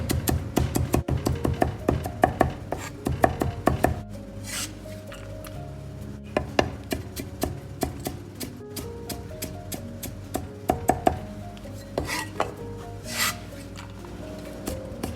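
A kitchen knife chops smashed ginger and garlic into mince on a board, a quick run of close, crisp strokes easing into sparser chops, with background music throughout.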